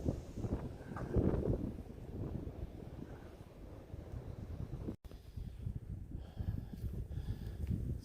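Wind buffeting a microphone at a trail shelter on a hiking route, steady rumbling gusts with a strong swell near the start and a brief dropout midway.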